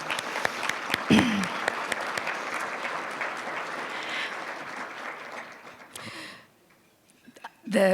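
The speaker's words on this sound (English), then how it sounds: "let's give them another round of applause" A banquet audience at the SUU Scholarship Appreciation Banquet gives a full round of applause that stays strong for several seconds, then thins and fades into quiet, with a brief voice early on and speech resuming at the end.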